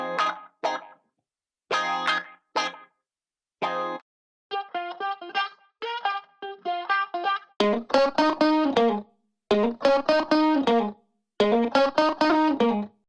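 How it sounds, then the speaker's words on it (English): Funky new-disco guitar loops play in short, heavily effected phrases separated by silences, choppy muted strums giving way to fuller, louder, rhythmic chord stabs. "A bunch of guitar loops for that really funky new disco sound."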